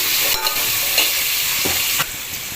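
Potatoes fry in hot oil in a pan with whole spices, giving a loud, steady close-up sizzle broken by a few scraping stirs.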